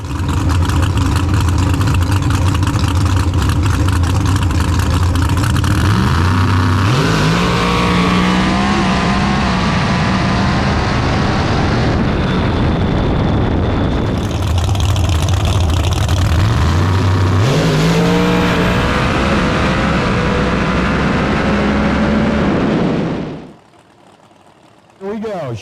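A Chevrolet Corvette drag car at the Snowbird Outlaw Nationals qualifying rounds roars loud and close, engine note climbing through sharp gear-change steps in a long sustained blast before dropping away abruptly, with a voice faintly under the noise.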